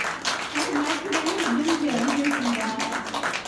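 An audience claps at a poetry book launch in a small Seoul gallery, a continuous patter of many hands under a voice speaking over a microphone.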